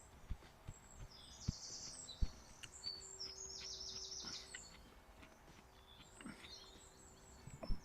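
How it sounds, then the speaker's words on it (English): Small birds chirp and twitter in short bursts in the woods, faint and somewhat distant, with occasional close knocks and rustles from a campsite nearby. "Birds are tweeting away."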